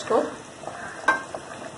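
Aloo gosht curry masala of meat and potatoes stirred and sizzling in a pot, a short close burst of frying with a couple of scraping stirs, no talk.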